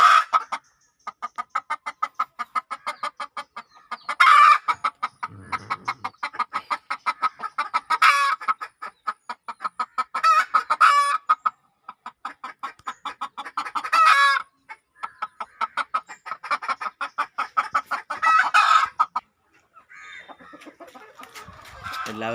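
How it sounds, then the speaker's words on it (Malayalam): Hens cluck and call repeatedly on a poultry farm where eggs are being hatched, the bursts close and fairly loud, continuing in short rhythmic runs with brief pauses and no talking. "ആ കോഴി തന്നെ കയറി ഇരിക്കട്ടെ"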